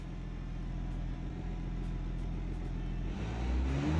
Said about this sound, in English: And here we hear the supercharger as well.